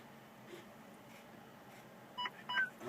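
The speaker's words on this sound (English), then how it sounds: "clicking on until we hear 2 beeps" Safe-start system in a truck cab sounding electronic beeps during a CDL in-cab pretrip: faint background at first, then two short, distinct beeps near the end, with no talking.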